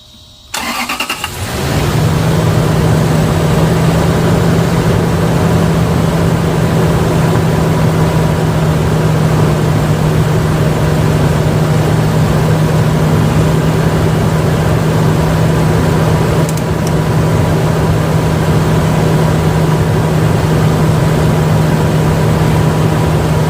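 A Lexus GX470, just back together after valve cover gasket work, cranks briefly and catches, then settles into a steady, close, even idle that runs on without pause and with no voices.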